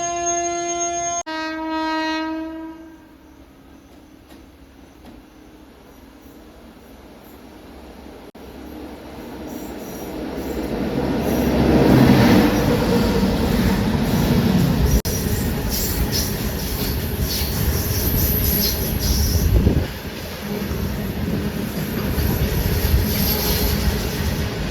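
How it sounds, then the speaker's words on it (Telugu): The Rayagada–Medak train at a station platform: a brief steady horn-like tone, then a building rumble of rolling railcars with squealing wheels and rattling that stays loud and continuous to the end. "రాయగఢ్ మెదక్ ట్రైన్ అయితే మన పక్కా ప్లాట్ఫామ్లో అయితే ఉంది."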